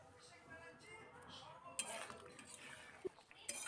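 Spoon stirring a poppy-seed paste curry of ridge gourd and potato in a pan, faint scraping with a few light metallic clinks against the pan.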